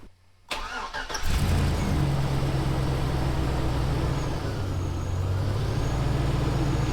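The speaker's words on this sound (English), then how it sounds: "Truck is running." A Chevy Sierra pickup truck's engine cranks and catches after a brief quiet start, then settles into a loud, steady idle that runs to the end.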